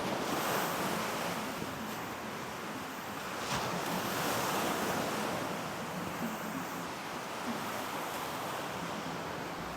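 Rough sea surf rolls onto Dragon's Beach at Labadee, a steady, fairly quiet wash of breaking waves mixed with wind rumble against the microphone.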